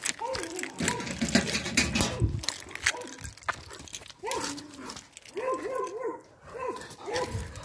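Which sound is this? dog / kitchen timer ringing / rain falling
dog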